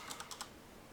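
Four quick keystrokes on a computer keyboard, light crisp clicks in fast succession, close and alone, followed by quiet.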